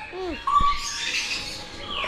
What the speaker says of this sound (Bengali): মিরাজের পিছনে আছে মাকাও, আর ইয়েলো মাকাও আছে, রেড মাকাও আছে।